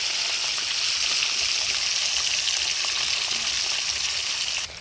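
Large river-caught kalibaush fish pieces frying crisp in oil in a pan: a steady, moderately loud sizzle and hiss that continues evenly, then cuts off abruptly at the end.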